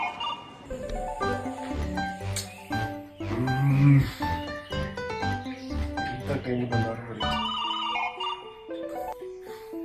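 A melodic phone ringtone for an incoming call plays loud and close, its bright electronic notes stepping through a tune for several seconds.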